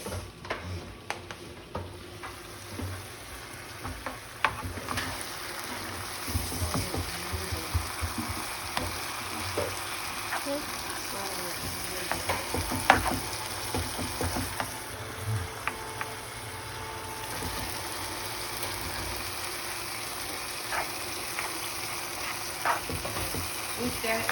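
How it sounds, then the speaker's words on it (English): Minced meat sizzles and fries in a pan while being stirred, a steady crackling hiss with frequent small scraping clicks, nearby and continuous. "you gotta keep stirring it so the meat cooks"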